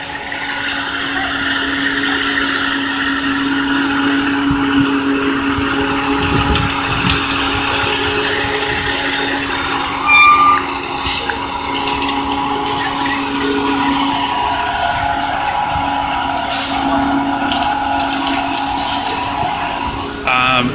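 A cement truck drives past on a campus street, a steady loud mechanical roar and hum of heavy engine and rotating drum mixed with city traffic noise, lasting throughout.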